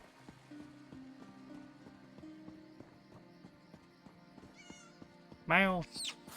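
Cat meowing in a video game, with one short, loud meow near the end that rises, then a quieter second cry. Before it there is soft game music and ambience, with a voice speaking in the background.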